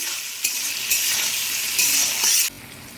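Sliced onion and cauliflower fry in a pan for egg chowmein, giving a loud, bright sizzle that swells in bursts as the vegetables are stirred.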